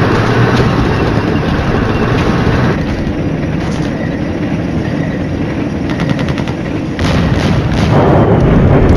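Artillery fire in the video game Flashpoint Campaigns, heard as a dense, loud rumbling barrage of continuous thuds and rattling bursts with no pauses.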